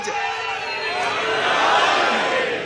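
A crowd at a religious gathering where a qasida is recited roars a slogan in unison, a dense, loud swell of many voices rising and then holding for a few seconds.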